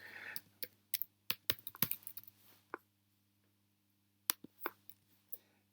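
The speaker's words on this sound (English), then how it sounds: "They have to be typed in exactly correctly." Team names typed on a computer keyboard, with quiet, close keystrokes coming in quick irregular clusters, then a long pause and a few final taps.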